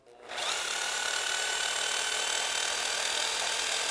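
A power buffer with a strip of tape attached spins up quickly and then holds a loud, steady high-pitched whine throughout, used for buffing a painted surface.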